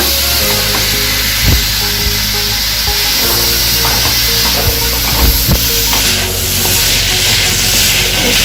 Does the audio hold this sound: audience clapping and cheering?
no